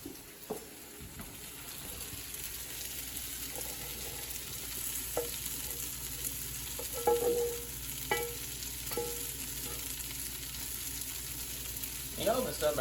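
Onions cooking down in a pan, a low steady sizzle with occasional light clicks and scrapes of a utensil, fairly quiet and close.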